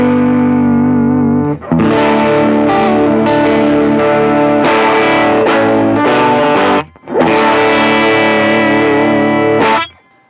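Distorted electric guitar played through a Bloom booster pedal, loud sustained chords with chorus-like shimmer, several strummed passages separated by brief gaps, ending in a fading ring.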